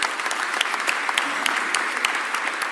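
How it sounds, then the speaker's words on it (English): A dense wash of steady clapping from a large crowd applauding Philadelphia's mayor, loud and continuous throughout with scattered sharper claps. "let's give our mayor, Cherelle Parker, a real big round of applause"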